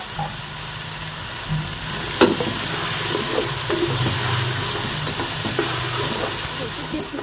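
Potatoes, peas and carrots lightly frying in a pan for vegetable fried rice, giving a steady close hiss and sizzle throughout with a few soft clinks and stirring knocks, and a voice heard faintly in the background.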